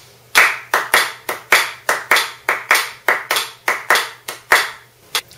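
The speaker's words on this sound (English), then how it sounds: "I'm only going to clap on the first and third claps of each beat." Sharp bare-hand claps ring out alone in an uneven swing pattern, about fifteen crisp strikes over several seconds with short-long spacing between them, close and clear against a quiet background.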